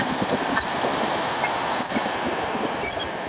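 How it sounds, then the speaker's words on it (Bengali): A Panskura–Digha local train pulls out from platform 1 at Panskura station. A steady rail rumble runs throughout, broken by three loud, high-pitched wheel squeals spaced about a second apart. "এই হচ্ছে পাঁশকুড়ার 1 নম্বর প্ল্যাটফর্ম, যেখান থেকে ছেড়ে বেরোচ্ছে আমাদের পাঁশকুড়া দীঘা লোকাল।"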